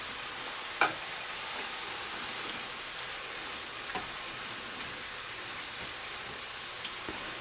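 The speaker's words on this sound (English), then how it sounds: "we're just going to stir fry these until they turn pink" Shrimp stir frying in a pan, a steady hiss of sizzling oil running throughout, with a couple of faint clicks from stirring and no talking.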